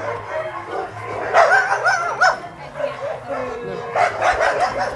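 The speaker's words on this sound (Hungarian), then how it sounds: "Kutya van, ugatás van." A dog barks and yips in short excited bursts, close and fairly loud, with a whimpering tone between barks while a person talks over it.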